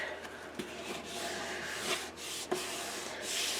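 Glued fabric being pressed and rubbed down onto a mini album cover, giving soft, close scuffing and rubbing strokes with a few light taps, steady and quiet with no talking.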